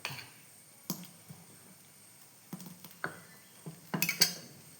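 A container of homemade dosa batter picked up and handled in a home kitchen, with a few sharp clinks and knocks of dish or lid spaced irregularly, close and moderately loud against quiet background.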